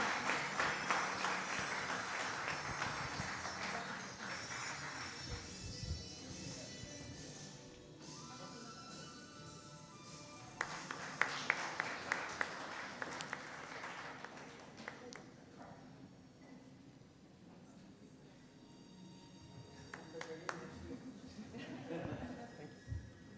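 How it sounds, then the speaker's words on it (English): An audience at the Rotary DEI Awards 2024 ceremony applauds with dense, sustained clapping that rises and falls in waves, while voices talk over and between the rounds of applause. "So please do enthusiastic round of applause,"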